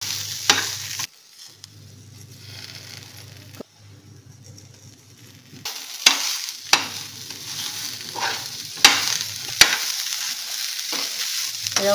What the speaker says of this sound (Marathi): तर प्रथम तेल टाकून आलं, लसूण व हिरवी मिरची परतून घेऊ.